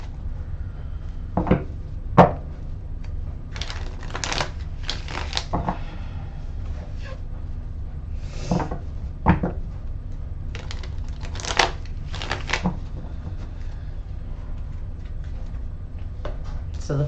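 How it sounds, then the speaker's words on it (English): A deck of tarot cards is shuffled by hand at close range, with repeated short riffling bursts and soft taps between quiet pauses. "So I already shuffled the cards, but I'm going to do it a couple more times."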